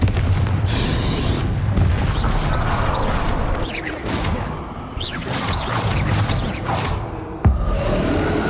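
In Hogwarts Legacy, the Confringo fire spell goes off in loud, continuous booming blasts with crashing and whooshing, capped by one sharp hit near the end.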